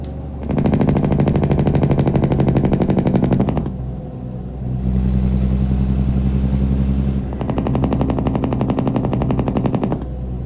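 A Cummins N14 diesel truck engine brake rattling in loud, rapid staccato bursts, two long blasts separated by a brief lower-pitched pause.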